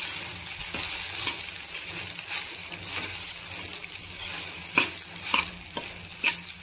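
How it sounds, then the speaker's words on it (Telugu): A spoon stirs coconut rice with tempering in a pan, scraping and clinking in a steady rhythm over a faint sizzle, with a few sharper knocks toward the end. "రైస్లో ఈ కొబ్బరి, ఈ పోపు ఇదంతా మిక్స్ అయ్యే వరకు బాగా కలపాలండి"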